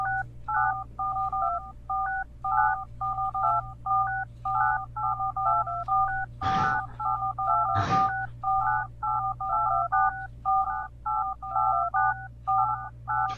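Telephone keypad tones beep in a rapid, regular dialing pattern within the video game Islands: Non-Places, with two sharp bursts of noise cutting through midway over a low steady hum.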